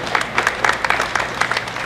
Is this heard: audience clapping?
yes